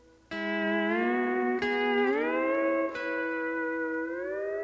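Pedal steel guitar in E plays the opening of a fill: a sharply picked chord rings on, then rises in smooth pedal-and-lever bends through two more picked chords, close and clear.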